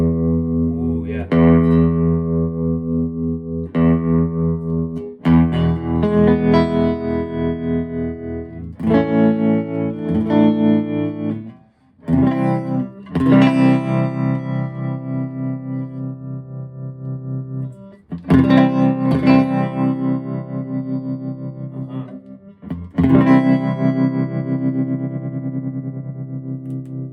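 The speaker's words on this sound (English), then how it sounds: "let's make sure the tremolo is still working and sounds good. There it is, nice and slow." A refurbished Fender Champ guitar amp with its tremolo set slow, ringing out sustained guitar chords that are struck again every few seconds, loud and close, with no talking.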